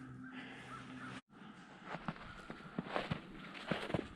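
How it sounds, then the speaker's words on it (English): Crows caw excitedly at a distance in the Fulshaw Craig Preserve, their calls mixed with nearby footsteps crunching along a wooded trail. "I'm really curious why those crows are just going crazy over there."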